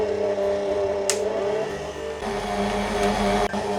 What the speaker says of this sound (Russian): И все это поставим в миксер. Начинаю с маленьких оборотов, и потом я обороты увеличиваю